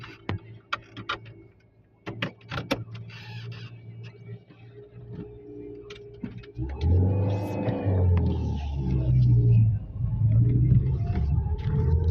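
Scattered clicks and ticks give way to a car engine rumbling up, its pitch rising and falling as it revs in several surges.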